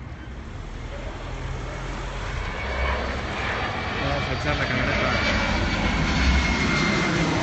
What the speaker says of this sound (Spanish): Todo el tiempo se oye el vuelo del avión.